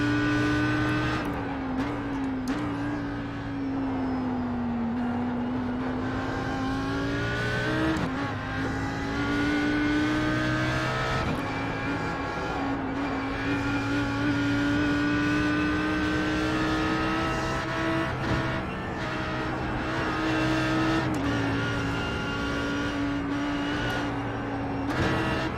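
Audi R8 GT3 race car lapping Bathurst in a racing video game, a loud sustained engine drone rising and falling through gear shifts and corners, with brief downshift blips and no talk.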